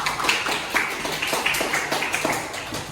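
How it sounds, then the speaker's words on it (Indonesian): A classroom gives applause for a student group after its presentation, a modest round of clapping from a small crowd with distinct individual claps, fairly close and lively. "Beri tepuk tangan untuk kelompok 3."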